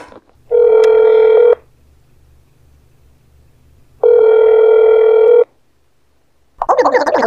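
A telephone rings in the horror game That's Not My Neighbor, with two long, loud electronic rings separated by a pause over a low steady hum, and a burst of voice-like sound following.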